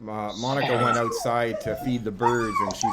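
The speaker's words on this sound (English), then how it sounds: "No. That's my dog." A pet dog whimpers and yips in high, whining cries over several seconds, close and fairly loud, while a person keeps talking over it.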